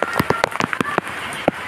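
Rain falling in Karachi: close, irregular taps and splats of individual drops striking a nearby surface, sharp and uneven in rhythm over a soft hiss.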